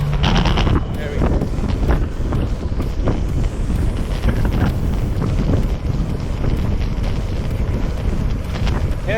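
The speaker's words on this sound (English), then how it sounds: "Headwind." Strong headwind roars across the microphone on a Sunday road bike ride, a steady loud buffeting rush throughout with faint movement noise underneath.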